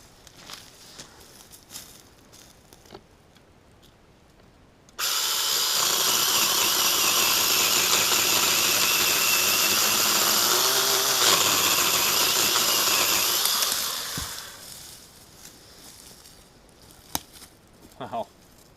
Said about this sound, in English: It just chews through and the weight of the saw does the work.